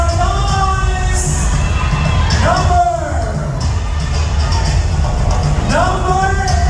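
A pageant audience at SMIT cheers loudly and steadily, with shrill whoops and screams rising above the constant roar of the crowd and an amplified voice over it.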